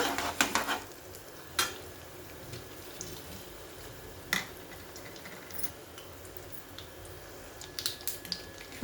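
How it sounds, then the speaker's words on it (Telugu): Dried red chillies sizzle in hot oil while tempering for pulihora, a soft, steady frying hiss with occasional sharp pops and spatters, close and fairly quiet. "ఎండుమిర్చి వేసానండి"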